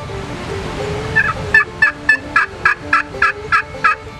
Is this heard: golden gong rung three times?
no